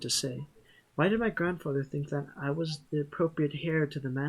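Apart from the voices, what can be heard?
No everyday noises stand out.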